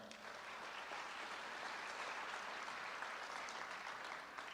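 An audience at a Jefferson High School athletics signing ceremony gives a sustained round of applause, an even wash of many hands clapping heard at a distance for several seconds.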